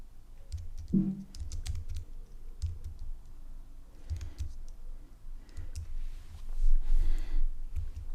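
Clicky keystrokes on a computer keyboard come in irregular bursts and pauses, close by, with a low background hum and no talking.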